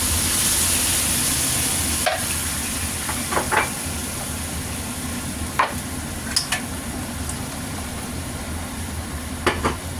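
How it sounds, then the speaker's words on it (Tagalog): Coconut milk goes into a pan of cooking chicken thighs and potato, raising a steady loud sizzle and bubbling hiss, with a few sharp utensil clinks scattered through. "I-add the coconut milk guys"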